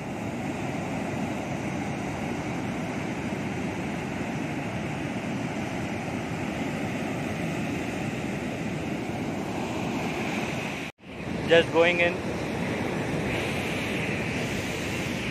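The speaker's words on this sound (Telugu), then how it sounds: "అలలు చూడండి అద్భుతంగా ఉన్నాయి." Ocean waves roll and break on a North Goa beach in the early morning, a loud continuous wash of surf with wind buffeting the microphone; a brief dropout comes near the end, followed by a few spoken words.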